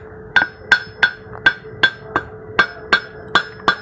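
A 16-inch emery stone for a Choyal atta chakki flour mill is struck firmly about ten times with a hard tool. Each strike gives a sharp ringing knock at a steady rhythm, close and loud, with a short metallic ring trailing after it.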